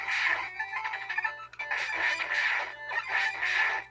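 Chicken enemies cluck and crow in Mega Man 5, a retro video game, with repeated bright squawking bursts roughly every second over steady game music, loud and close with no talk.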